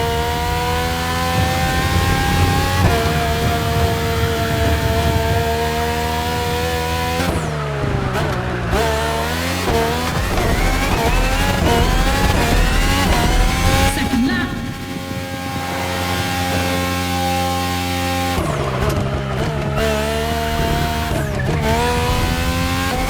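Race car engines roar in a Red Bull AGP race in The Crew Motorfest: loud, sustained high revving that climbs and drops through gear changes, with brief tire squeals. A voice is heard at times under the engine noise.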